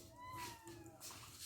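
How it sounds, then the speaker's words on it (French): Cat meowing, a short drawn-out meow with a falling pitch and a second fainter cry, quiet and close against low background noise. "Petit chat."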